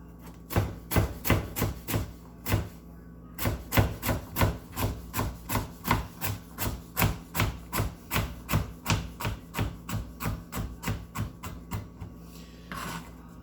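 A knife chops vegetables into sticks and then crossways for Italian wedding soup, making a long series of evenly spaced, crisp thuds on a cutting board, close and steady with a short pause near the start.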